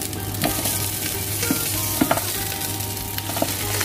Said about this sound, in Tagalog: lagyan na natin ng sibuyas. Lagyan na natin, higisan na natin ating pata